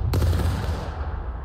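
A musket volley fired on command in the Civil War game War of Rights: one sharp, loud, near blast from many muskets at once, rolling into a long, fading rumble with no voices over it.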